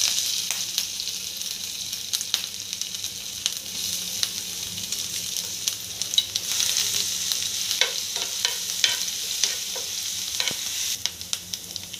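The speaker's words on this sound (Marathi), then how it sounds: "तेल तापलं आहे, आता आपण आलं लसूण पेस्ट टाकूया।" Ginger garlic paste dropped into hot oil for tawa-fried liver, a bright, crackling sizzle that keeps popping and spitting steadily, with occasional louder crackles, close and without talk.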